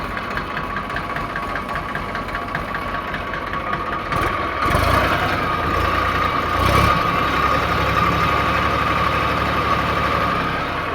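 A New Holland 3037 tractor engine idles steadily and close by, a continuous rumbling diesel throb with a couple of brief louder surges, and no voices.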